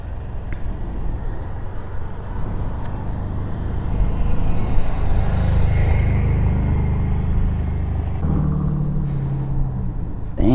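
A Suzuki Bandit 600 motorcycle engine rumbles with a deep, steady low drone that swells in the middle, then revs briefly near the end, close and loud.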